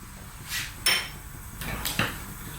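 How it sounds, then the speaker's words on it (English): Black mustard seeds and cumin seeds drop into hot mustard oil in a pan for an Indian mixed vegetable curry, giving two short, close rattling bursts of seeds striking metal and a brief sizzle. "we're going to add now our black mustard seeds and our cumin seeds"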